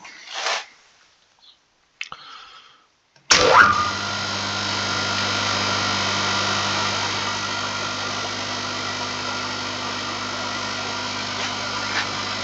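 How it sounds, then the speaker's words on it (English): A three-phase converter in a home garage workshop starts abruptly and settles into a steady, loud running hum with strong low tones and broadband whir, continuing alone after a few faint knocks. "So we'll start up the 3-phase converter."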